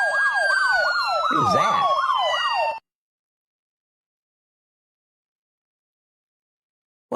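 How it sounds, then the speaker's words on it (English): A wailing emergency siren with a fast warbling yelp sounds loudly for a few seconds, a voice briefly speaks over it, then it cuts off into silence. "I know it was a siren"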